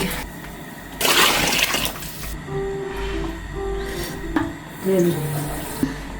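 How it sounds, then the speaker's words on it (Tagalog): Water is poured into a pot of Romanian meatball soup in a short splashing burst, followed by quieter kitchen clinks and a few faint tones. "Magdagdag daw si Mama ng tubig."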